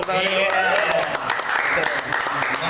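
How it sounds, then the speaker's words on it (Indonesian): A crowd applauds a guest star at a Marapthon event, dense continuous clapping with cheering voices mixed in across the whole stretch. "Boleh minta tepuk tangannya"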